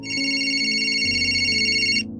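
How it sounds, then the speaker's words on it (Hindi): A phone rings with an incoming morning call, a bright electronic ringtone of sustained tones with a melody shifting midway, loud and close, cutting off just before the end. "अगले दिन श्रेया की नींद सुबह नवी की कॉल से खुली।"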